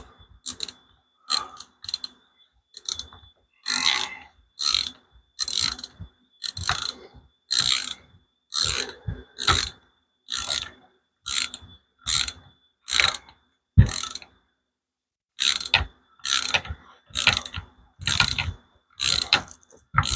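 Ratchet wrench tightening bolts on Skyjacker suspension A-arms for a Chevrolet K1500, bursts of rapid clicking repeating in short rhythmic strokes with brief pauses between, close and clear with no talking.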